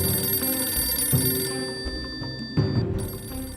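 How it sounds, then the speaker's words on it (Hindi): An old telephone bell rings in two bursts with a brief gap between them, a loud metallic trill over a low background hum. "टेलीफोन की ट्रिंग ट्रिंग की घंटी की आवाज अब कल की बात हो चुकी है"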